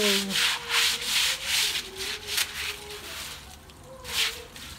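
Rhythmic scraping of lime plaster off a kitchen wall, repeated rasping strokes about every half second, close and fairly loud, with a brief faint voice in the background.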